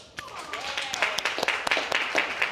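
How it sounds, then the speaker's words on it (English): An audience at a funding event breaks into applause, the claps thin at first and then building into quick, uneven rounds, with a voice talking briefly over the start. "Can we clap it up for them?"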